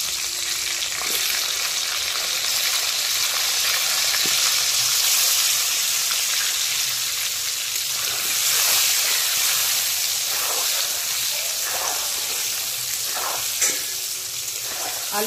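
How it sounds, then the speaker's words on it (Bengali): Potatoes fry in hot mustard oil seasoned with salt and turmeric, giving a constant close sizzle with scattered stirring scrapes and taps over a long stretch, and no voices. "এর মধ্যে কিছুটা আলু ভেজে নেব।"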